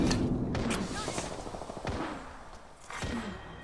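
Several guns fire at once in a shooter video game round, a dense clatter of overlapping shots near and far, with a speaking voice running under the gunfire.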